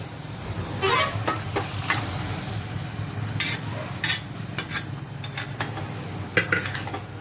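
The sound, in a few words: boiled dal added and stirred with bottle gourd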